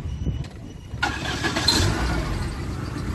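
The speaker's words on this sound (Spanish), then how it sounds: "Ok, señores, vamos a arrancar el carro." A Dodge Shadow / Plymouth Spirit with a 2.2 or 2.5 engine cranks and catches. After a brief quiet moment, the starter and engine burst in and settle into a loud, steady running rumble close by. No talking.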